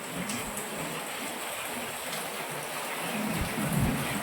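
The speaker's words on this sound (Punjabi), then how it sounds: "ਬਹੁਤ ਜ਼ਿਆਦਾ ਮੀਂਹ ਆ ਫਰੈਂਡ ਬਹੁਤ ਜ਼ਿਆਦਾ" Heavy rain pours steadily with rumbling thunder, a dense, loud, continuous wash that swells slightly toward the end.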